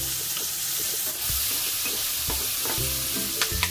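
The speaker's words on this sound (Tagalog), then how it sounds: "Igisa lang ang bacon hanggang sa mapalabas na ang mantika nito" Smoked bacon sautéing in a pan crackles with a steady close sizzle, broken by repeated utensil scrapes and knocks in an irregular rhythm, with no talking.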